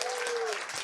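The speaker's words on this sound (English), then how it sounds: "So you need to give him a big round of applause." A village address audience applauds the mayor in a brief burst of steady clapping, fairly faint, with a faint voice over it.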